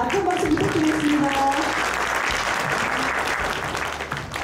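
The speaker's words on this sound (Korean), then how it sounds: "큰 박수 부탁드리겠습니다." An audience at an award ceremony breaks into loud, sustained clapping that fades slightly toward the end, while a voice briefly speaks over the start.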